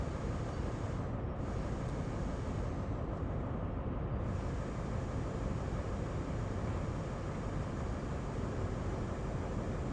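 Steady broadband rumble of a high-speed train in the Train Sim World video game, a continuous loud roar with no breaks and no voices.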